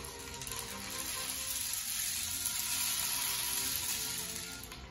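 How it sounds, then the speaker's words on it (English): A homemade rain stick tipped slowly, its filling cascading in a steady, dense hiss like falling rain that swells slightly and fades at the end, close and continuous with no voices. "A rain stick sounds like rain."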